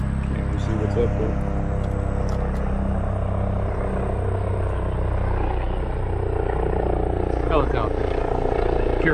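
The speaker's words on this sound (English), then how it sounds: "Helicopter. Pure flight." Helicopter rotor and engine drone in the distance over an evening city street in Dallas, a steady low thrum with faint traffic and brief background sounds.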